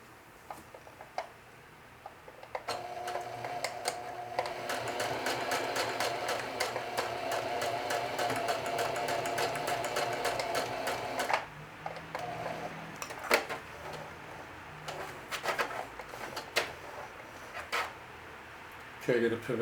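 A sewing machine stitches a denim watch pocket in one rapid, even run of needle clatter lasting several seconds, quiet overall, followed by a few scattered clicks and small handling taps as the work is adjusted.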